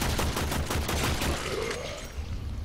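Rapid gunfire from shooting enemy cannon fodder in the video game Warframe, a dense, continuous burst of repeated shots that rattles steadily before easing slightly near the end, with no talking.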